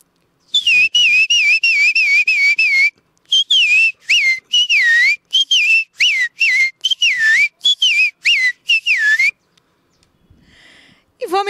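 A person whistles an imitation of a sabiá thrush, a long, melodic song in phrase after phrase of warbling, sliding notes, loud and close, ending with a brief quiet stretch.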